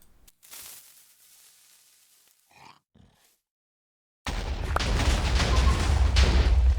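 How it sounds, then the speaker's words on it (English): After a few quiet grunts and near silence, a loud explosion in Minecraft: Bedrock Edition bursts in suddenly and rolls on as a deep, sustained rumble. "Listen to this beautiful explosion."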